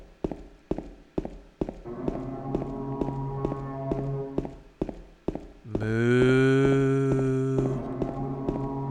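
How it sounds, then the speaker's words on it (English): A cow moos long and loud in Silent Hill 2 on the PS2, rising over a run of sharp rhythmic footsteps or taps that come before it, then fading into quieter tapping. "Complete with something mooing really loud."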